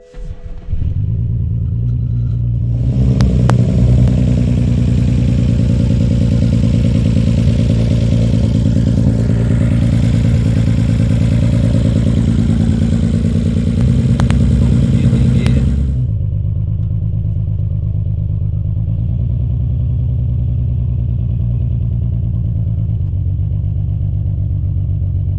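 BMW F21 M135i engine cranks and fires, then settles into a loud, steady rumbling idle close by, with a slight drop in level after about sixteen seconds as it keeps running.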